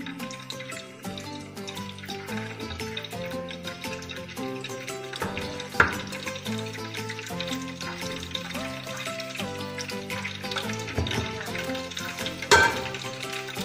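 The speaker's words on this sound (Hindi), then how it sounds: "एक एक 2 करके इसको कोटिंग करेंगे इसके साथ और हम फ्राई करने रख देंगे" Cornflour-coated sweet potato fries frying in hot oil at home, a light steady crackle under tonal background music, with a couple of sharper clinks from utensils.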